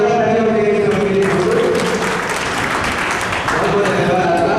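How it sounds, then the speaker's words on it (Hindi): An audience at a foundation day and installation ceremony of a Digambar Jain senior citizens' social group in Bhind breaks into steady, sustained applause that fills the room. "एक बार जोरदार तालियां मेरे सभी के लिए"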